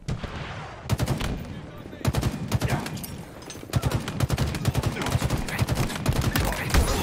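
Gunfire from a weapon in the video game Halo Infinite during a multiplayer match: rapid, loud bursts of repeated shots, broken by short pauses, running through the whole stretch.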